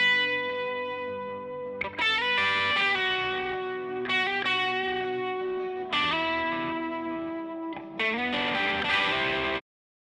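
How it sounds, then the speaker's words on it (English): An unprocessed lead electric guitar from a song mix, played alone in sustained distorted notes and chords with several bright attacks and changes, then stopping abruptly. "So here's the guitar first without processing."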